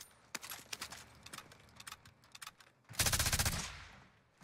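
Gunfire in Call of Duty on Rebirth Island, with a string of sharp, scattered shots followed by a louder rapid burst of close fire near the end.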